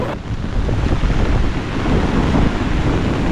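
Steady, loud rush of wind buffeting the microphone, with a dense wash of heavy rain beneath it, continuous throughout, during the Bhatkal Maari Jaatre temple festival.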